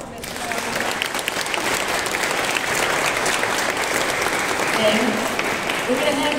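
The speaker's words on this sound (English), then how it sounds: "Let's give another round of applause for Ms. Florence" Sustained applause from an audience at an Asian Art Museum event honoring Ms. Florence Fang, a steady broadband clapping wash filling the whole stretch with no gaps.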